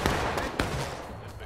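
Infantry musket volleys in a Civil War battle game set at Bloody Lane: a few sharp cracks ring out at irregular intervals over a dense, continuous din of battle, with shouted commands mixed in.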